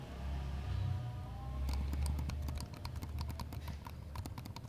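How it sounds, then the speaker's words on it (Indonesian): Quiet clicks of a Logitech M650 mouse, a rapid series of soft, close clicks in the second half, faint against a low background hum, with no talking. "mouse ini itu cocok banget buat kalian yang pengen pakai untuk kerja malam hari, karena dia nggak berisik sama sekali"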